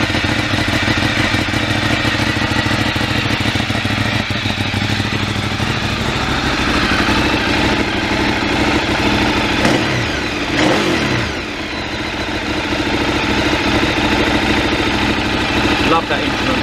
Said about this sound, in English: Definitely hear how much more cleanly and crisply an 848 Evo spins up